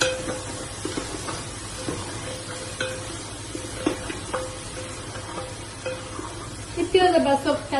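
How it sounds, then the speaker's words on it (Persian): Onions frying in a pan for a home-cooked chicken and spinach dish, a soft steady sizzle with occasional utensil taps and stirring, ending in louder crackling, while someone talks over it. "پیاز با سرخ کردنش انداختیم"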